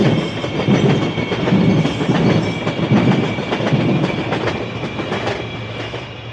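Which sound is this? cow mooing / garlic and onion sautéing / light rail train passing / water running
light rail train passing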